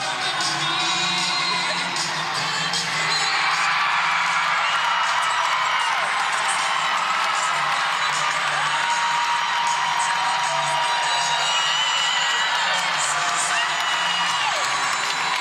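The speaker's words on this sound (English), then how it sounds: "Lots of cheering over on floor" Crowd cheering at a women's college gymnastics meet in a large arena, a distant, steady roar of cheers, whoops and scattered clapping that continues without pause.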